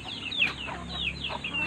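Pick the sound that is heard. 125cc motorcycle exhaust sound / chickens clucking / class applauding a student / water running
chickens clucking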